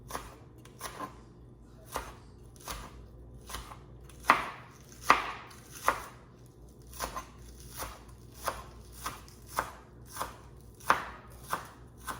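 Green onions being chopped with a knife on a cutting board, a steady run of crisp, close knife strikes in an irregular rhythm, heard alone without talk.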